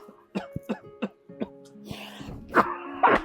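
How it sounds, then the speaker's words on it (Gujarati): A man coughs in a quick run of short, sharp bursts, then clears his throat more roughly, close and loud against a quiet background. "એટલે ખાંસી આવી ગઈ"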